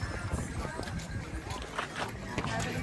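Horse hooves clip-clop on ground at Kanyam, Ilam in Nepal, a faint irregular patter of hoofbeats within busy outdoor ambience and nearby chatter.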